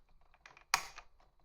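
A solid knock on an old IBM keyboard with its legs locked out: one sharp, loud rap amid a few softer handling clicks and taps, close and dry.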